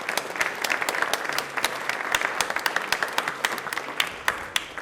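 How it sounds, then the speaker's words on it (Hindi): Loud, sustained applause from a studio audience at a Rajasthan television quiz programme, dense clapping with sharp individual claps standing out over the steady wash, continuing without speech. "एक बार तालियां जोरदार हो जाएं इसके लिए"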